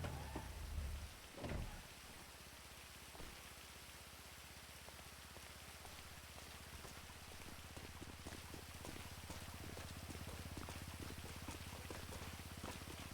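Steady rain patters down inside GTA V on the NoPixel roleplay server, a dense constant hiss with a low rumble beneath, after a brief louder thump near the start; no one speaks.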